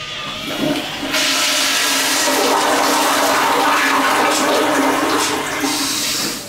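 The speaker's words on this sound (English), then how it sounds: "You can press it to flush." A toilet flushes in a public family bathroom at a children's museum, a loud rushing gush of water that surges after about a second and roars steadily before tapering, with no talking.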